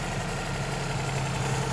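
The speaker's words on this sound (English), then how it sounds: "Oh, there's the whine. So it's got a little bit of whine going on." A Geo Metro engine idles with a slight whine, steady and close with a low droning hum and no talking.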